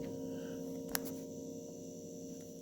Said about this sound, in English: Sorry about that light buzzing above the camera.